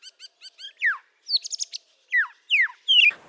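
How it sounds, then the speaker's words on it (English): A white-rumped shama thrush sings alone in a forest with a clear, close series of short chirps, then sweeping whistled phrases and a rapid trill, separated by brief silences. "I think I see a white-rumped Shama thrush."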